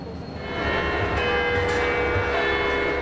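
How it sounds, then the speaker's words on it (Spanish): The bells of Notre Dame in Paris ring in sustained, overlapping tones over a low rumbling background. "Las campanas de Notre Dame en París suenan en honor de las víctimas."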